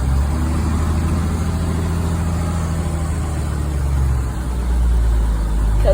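A farm machine's engine idling roughly on a hand throttle, a loud, low, steady rumble with an uneven pulse and a slight dip and recovery toward the end, no voices.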